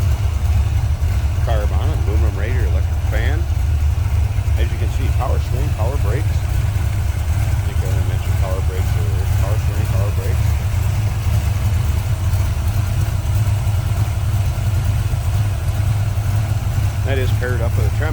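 A 1983 Ford Mustang T-top hatchback with a 347 stroker V8, 650 carburetor and electric fan idles steadily with a deep, loud rumble, while someone talks over it for most of the stretch.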